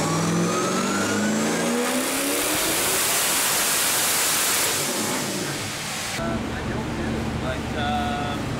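A C6 Corvette engine revs hard on a dyno, a loud sustained roar that climbs in pitch, then drops and settles into a lower steady drone.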